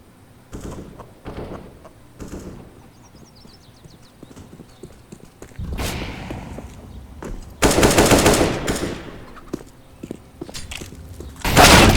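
Gunfire from Counter-Strike: Global Offensive, loud rapid automatic bursts breaking out in several separate volleys between quieter stretches of game noise and footsteps.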